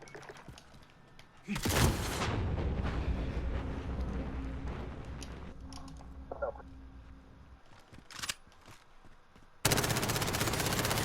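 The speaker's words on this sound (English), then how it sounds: "I can run around and just keep firing" Rapid automatic fire from an MP7 submachine gun in Call of Duty: Modern Warfare rattles in a long, loud sustained burst, breaks off briefly, then resumes in another dense burst near the end.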